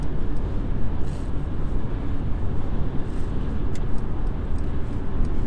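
A 2015 Mercedes C220, a Cat S repaired write-off driving in Eco mode on a motorway, gives off a steady, even broadband road and wind roar with low rumble throughout and no talking.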